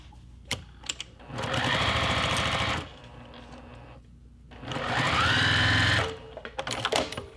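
Sewing machine stitching pieces of a quilt block, two sustained runs of fast rhythmic whirring separated by a pause, close and loud, with small handling clicks around them and no talking.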